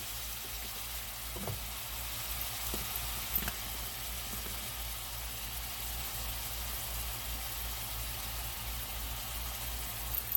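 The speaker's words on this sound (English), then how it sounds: "I've just added a tablespoon of garlic powder on top of those shrimp. I'm just going to let them begin to saute in that oil." Medium shrimp topped with a tablespoon of garlic powder begin sautéing in hot oil, giving a steady, fairly quiet sizzle throughout with a few faint clicks and knocks of the pan, and no one talking.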